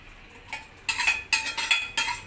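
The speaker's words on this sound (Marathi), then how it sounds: "आपण हे सगळं ह्याच्यामध्ये आता मिक्स करून घेऊ" A spoon scrapes and clinks against a pan while brinjal curry with homemade spice mix, crushed peanuts and salt is stirred, several short close scraping strokes in an uneven rhythm, no voices.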